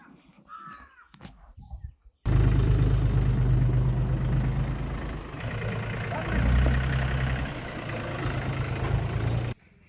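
After a short, quieter opening with faint voices, a tractor engine starts running loudly and steadily, a dense low rumble that holds for several seconds before cutting off abruptly.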